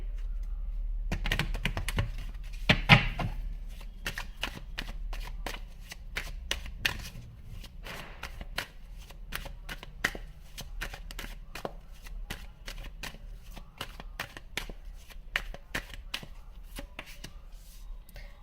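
A tarot deck is shuffled by hand for a long stretch, producing quick, irregular riffling snaps and card flicks that stay close and crisp without talk.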